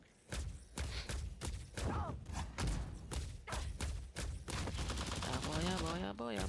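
Finger-gun attacks fire in the online action game Lost Ark, a dense, rapid string of loud gunshots and thuds mixed with other game effects and rising tonal sounds, close and continuous.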